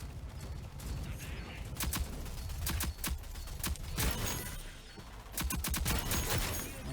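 Rogue Company gunfire in Strikeout mode, heard as rapid bursts of sharp shots in quick clusters, fairly quiet, with brief pauses between volleys and steady game background noise underneath.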